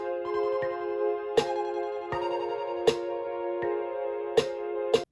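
Programmed electronic track with sustained tonal synth chords and sampled snare hits landing on beats 2 and 4, sharp regular cracks over the held notes, moderately loud with no voices.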